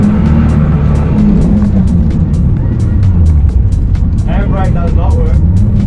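Car engine idling steadily while its clutch is tested, a loud, constant low rumble filling the clip, with faint tonal squeals and ticks over it near the end.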